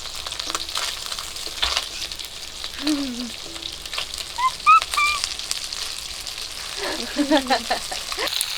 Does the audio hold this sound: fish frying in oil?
yes